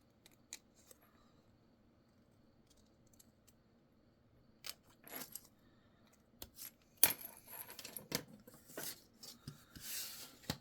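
Scissors cutting around the outside edge of a dark-circus paper craft piece: quiet, intermittent snips and paper rustles, sparse at first and growing busier toward the end, close and alone.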